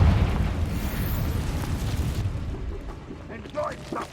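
A fiery Confringo spell explodes in Hogwarts Legacy, a loud booming burst followed by a rumbling decay that fades over a few seconds.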